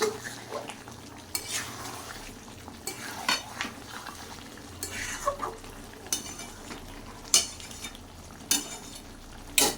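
Chicken kosha is stirred in a sizzling pan, the utensil scraping and clanking against the metal in uneven strokes over a soft, steady fry.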